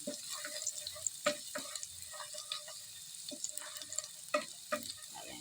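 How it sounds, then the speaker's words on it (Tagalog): Garlic sautéing in a pan in leftover fish oil with no added cooking oil, giving a quiet, steady sizzle broken by intermittent scrapes and stirring clatter from a utensil. "Igigisa lang natin yung ating bawang."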